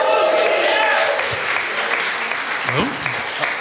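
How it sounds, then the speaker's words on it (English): Awards ceremony crowd cheering with whoops and a round of applause, loud continuous clapping and shouts from a full room that stay steady throughout. "I just wanted to get 2 more whoops and round of applause."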